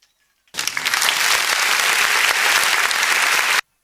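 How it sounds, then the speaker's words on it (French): A crowd at a children's Christmas tree celebration in Koumassi bursts into loud applause after a moment of silence, holding dense and steady for about three seconds before stopping abruptly. "Ça s'applaudit très fort."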